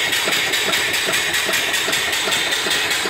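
A steam engine fed by a boiler runs steadily with a continuous mechanical chug and rattle, close and loud throughout, with no talking.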